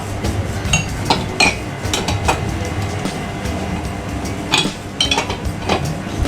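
A nut is tightened on a Vespa scooter with metal tools, giving a series of sharp metallic clinks and taps at irregular intervals, close and fairly loud against a quiet background.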